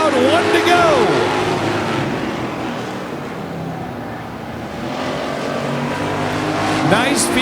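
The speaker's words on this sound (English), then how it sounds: "Nice field of cars tonight and some solid racing." Race cars roar around an oval track at night, engines rising and fading as the field passes close by, with an announcer talking over the racing.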